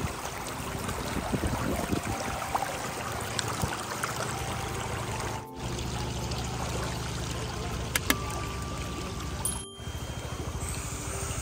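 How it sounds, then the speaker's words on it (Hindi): A small river flows through a rain-soaked forest near Vasai, its broadband watery rush steady and close throughout, with brief dips in level. "यहाँ पे छोटी सी रिवर है"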